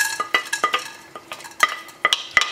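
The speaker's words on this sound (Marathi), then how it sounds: "आतां लवंगां, काळी मिरी आनी एलची भाजया." Whole cloves, black pepper and cardamom dry-roast in a pan, stirred with a metal spoon that clinks and scrapes against it in quick, irregular taps, close and fairly clear with no talking.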